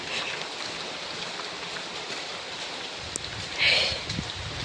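Steady heavy rain falls outdoors in a residential neighbourhood, a constant broad wash of noise throughout with a brief louder splash or rustle near the end.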